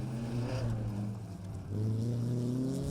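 A Peugeot 306 rally car competes in a rally stage on Anglesey, its engine revving and climbing in pitch, dipping briefly, then pulling hard again, heard fairly faintly at a distance.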